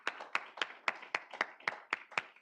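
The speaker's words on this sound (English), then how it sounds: "let's go ahead and give him a round of applause for that" A small audience clapping for a student at an intramural draft night, about ten distinct sharp claps in a steady rhythm, close and moderate in volume with no talk.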